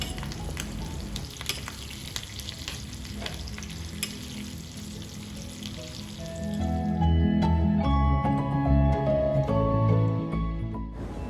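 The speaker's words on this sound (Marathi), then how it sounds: "कढीपत्ता त्याचप्रमाणे हिरवी मिरची आणि लाल मिरची टाकून फोडणी करून घेणार आहे" Curry leaves, green chillies and red chillies crackle and sizzle loudly as they hit hot oil for a tempering, a steady frying hiss that swells and spatters near the pan.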